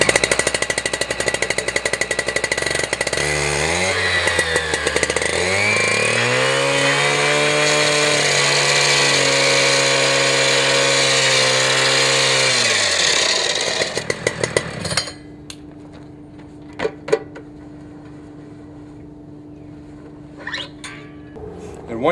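A K1270 rail saw cuts through a locating finger about a quarter inch into the head, a loud, steady high-pitched motor whine whose pitch dips and rises under load for about ten seconds, then winds down and stops, leaving quiet clicks.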